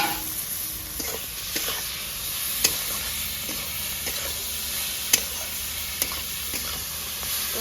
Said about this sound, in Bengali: এবার কিন্তু কেটে রাখা টমেটোটা দিয়ে দেবো